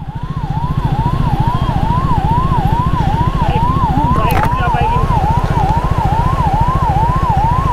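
A wailing emergency siren rises and falls in a steady repeating cycle, loud over heavy traffic in a Kashmir valley, with a brief honk partway through.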